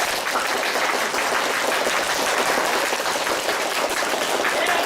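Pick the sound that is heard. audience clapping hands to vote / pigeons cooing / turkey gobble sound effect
audience clapping hands to vote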